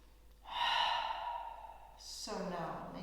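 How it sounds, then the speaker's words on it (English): A single slow, deep breath taken while sitting in a kneeling yoga pose during a gentle backbend class, a long audible inhale followed by a softer, airy exhale, close and quiet with no speech. "arrive here for one deep in breath and out breath"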